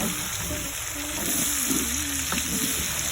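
Boneless chicken thigh chunks frying in a pan with bacon, a steady crackling sizzle heard close with a faint background hum and a few brief tonal sounds over it.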